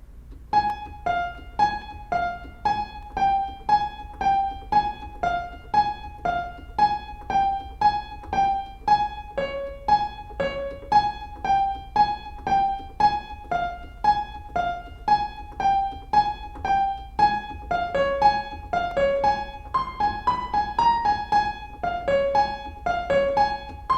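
A one-handed piano melody of a tune from Squid Game, played as a steady, evenly spaced run of single clear notes with a denser, layered passage near the end, solo and close.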